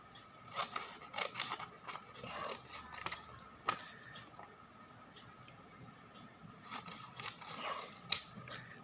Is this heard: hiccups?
no